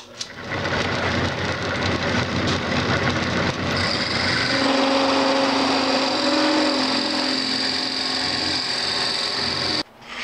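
A Forstner bit on a drill extension bores steadily through a wooden peppermill blank on a lathe, a loud continuous whirring grind whose pitch shifts midway before the tool cuts off near the end.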